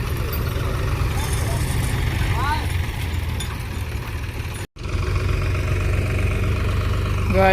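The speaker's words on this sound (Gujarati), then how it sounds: "આનું આ ટ્રેક્ટર જોન્ડિયર છે" A John Deere tractor engine drones steadily in a farm field where a tractor has got stuck, a loud continuous low rumble with a brief dropout midway, while voices talk over it.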